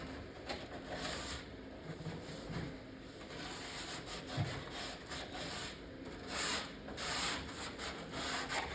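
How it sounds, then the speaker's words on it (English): Steady hand sanding along the edges of a Popeye arcade cabinet to remove dirt, a continuous scratchy rubbing with rhythmic strokes and slight swells, close and moderately loud with no talking. "Just kind of got to go around the edges and everything and sand off this dirt."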